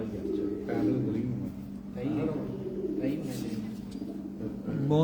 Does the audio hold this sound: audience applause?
no